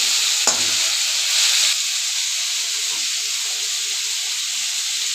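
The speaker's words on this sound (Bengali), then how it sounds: "শিমটা তো একটু ভাজা ভাজা হবে।" Beans frying in oil with dried chili and garlic, a strong, even hiss of sizzling after one sharp clatter near the start, steady and close throughout.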